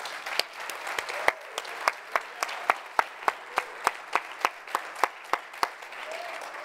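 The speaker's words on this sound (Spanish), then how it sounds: "¿Quién le da un aplauso," Congregation clapping in a church service, heard as a fairly quiet wash of applause with one or two distinct, evenly spaced handclaps standing out sharply in a steady rhythm.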